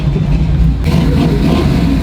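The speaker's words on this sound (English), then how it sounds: "What you think about my hot rod?" A hot rod muscle car engine runs loud and close, a heavy low rumble that shifts as it revs slightly partway through.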